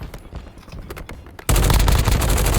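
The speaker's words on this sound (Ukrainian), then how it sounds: "Він стріляє мені." Rapid bursts of gunfire in the video game Warzone erupt partway through, loud and dense like automatic weapons, after a quieter stretch of scattered shots and faint sounds.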